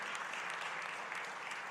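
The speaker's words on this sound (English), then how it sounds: "I think that deserves a big round of applause" Steady, dense applause from an audience at an Ag Day event, continuous and even throughout the short stretch with no break.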